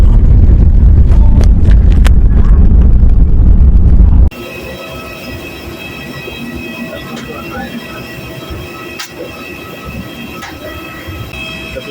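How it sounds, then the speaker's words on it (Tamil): Airliner landing at Hanoi airport, heard from inside the cabin: a loud, rough roar and rumble for about four seconds, then a sudden drop to a quieter hum with faint rattles. "லேண்டிங் ஆகிடுச்சு"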